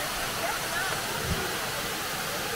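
Owharoa Falls, a waterfall in New Zealand, pours in a dense, steady roar that fills the scene, with voices talking faintly beneath the rushing water.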